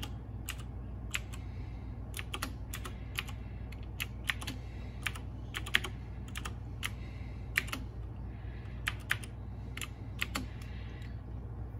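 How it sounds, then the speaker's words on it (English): A password is typed on an iPhone, heard as a string of quick, crisp taps in irregular bursts over a steady low hum, close and fairly quiet with no talk. "so I do have to type in the password"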